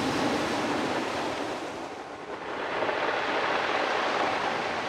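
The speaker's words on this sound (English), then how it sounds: "Yeah, the receding water makes a crackling noise." Waves draw back over a pebble beach near Fort George in Scotland, a loud continuous hiss and crackle of water through stones that dips briefly in the middle before surging again, with no voices.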